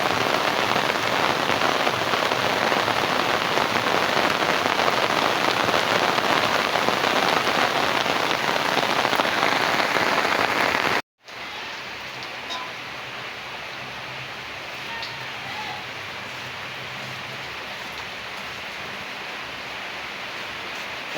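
Heavy rain pours steadily with a dense hiss, then after a sudden break continues more softly as a lighter, even patter.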